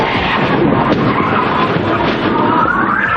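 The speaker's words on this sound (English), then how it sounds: "In slow motion, you can see the car wipe out the video camera, then slam into Mike, and finally plow through a power pole." A car skids and crashes through a video camera and a power pole, a loud continuous roar of broadband noise filling the whole stretch with no clear separate impacts.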